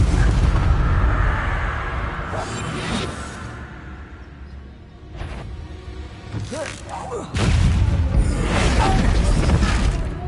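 The Bombarda blasting spell in a Harry Potter video game goes off as a series of booming explosions and crashing debris, with heavy rumbling blasts at the start and again near the end.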